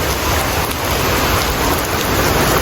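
Rain falls as a dense, loud, unbroken wash of noise close by, steady throughout, with no voices.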